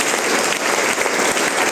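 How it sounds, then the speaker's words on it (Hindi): Audience applause fills a training session hall, steady dense clapping from a crowd held at an even level throughout, close and loud. "तो उनके लिए भी जबरदस्त ताली"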